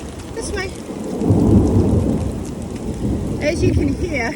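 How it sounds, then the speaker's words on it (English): Heavy rain pours steadily on a tent campsite by a river while thunder rumbles deep and loud overhead, with a few faint chirping bird calls. "As you can hear, the thunder and lightning is right above us."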